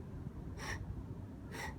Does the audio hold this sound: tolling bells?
no